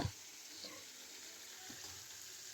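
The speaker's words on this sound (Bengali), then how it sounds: "এবং আমি আবার চিকেনগুলো একটু ফ্রাই করে নিচ্ছি যেগুলো মানে ম্যারিনেট করে রাখছিলাম" Marinated chicken frying in a pan, a faint steady sizzle with a couple of soft clatters of stirring.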